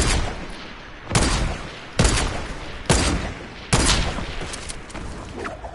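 Gunfire in a video game shooter, four loud booming volleys roughly a second apart, each with a long noisy decay, close and dominant with no voices.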